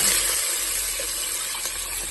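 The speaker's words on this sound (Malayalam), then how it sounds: "അപ്പൊ വെള്ളം ഒഴിക്കും" Water pours steadily into a cooking pot over fried onions, rushing continuously for a couple of seconds, close by, with no talking.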